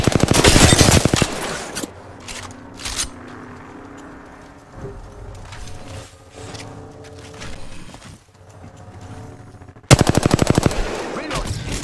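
Automatic gunfire in the Apex Legends video game, with loud rapid bursts at the start and end and quieter shots, footsteps and game noise in between.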